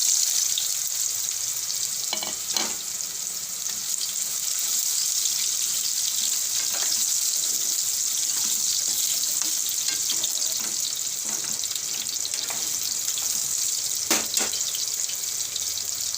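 Raw banana pieces frying in oil with asafoetida and cumin, a continuous dense sizzle held steady throughout, with occasional faint scrapes of a spoon stirring in the pan.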